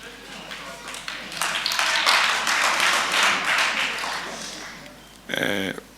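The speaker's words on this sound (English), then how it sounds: "please, let's not clap" A burst of audience clapping at the Commission into State Capture hearing, rising to a dense patter, then fading, followed by someone speaking close to the microphone.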